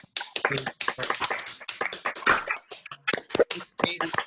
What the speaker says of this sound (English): give everyone a round of applause because these panelists were great